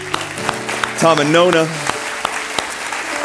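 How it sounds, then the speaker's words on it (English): Church congregation applauding a pastor and his wife at a Sunday service, a dense patter of clapping with someone speaking over it and a brief cheer rising in the middle. "We just want to give you guys a round of applause."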